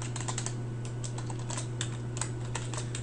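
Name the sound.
typing on a computer keyboard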